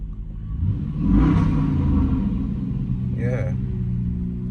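A truck with a 5.7 litre Hemi V8 runs smoothly after a tune-up, a deep close rumble that swells briefly as the engine revs, then settles to an even idle while a person talks.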